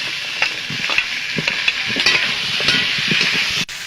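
Potatoes stirred into a sizzling fried coriander spice paste, with a steady close frying hiss under repeated scraping strokes of a spoon against the pan.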